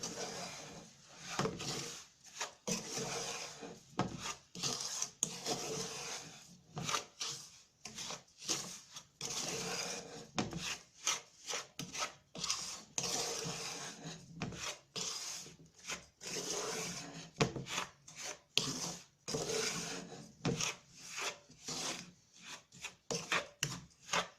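A spoon scrapes and rubs through cooked soji as sugar is stirred in off the stove, making irregular gritty scraping strokes with short pauses between them, close and soft.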